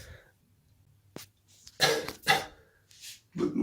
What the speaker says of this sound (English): That's how much blood I'm coughing every half an hour.